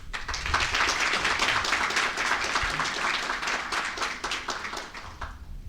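Audience applause welcoming a guest introduced at a Korean gas industry energy security forum: steady, dense clapping from a seated crowd throughout, gradually thinning toward the end.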